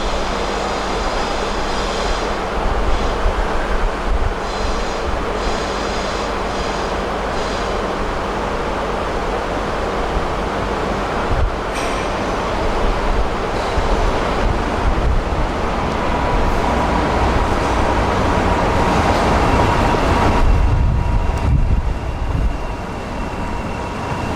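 A Thumper diesel train arrives at a station, giving a continuous loud, rough engine roar and rumble with no speech.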